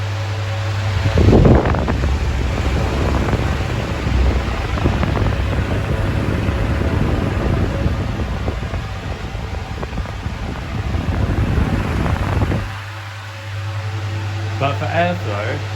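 A 2000s Bionaire 2cool 16-inch pedestal fan runs with a loud, steady rushing whoosh of air and a low hum. Someone briefly handles the fan and speaks a few words near the end.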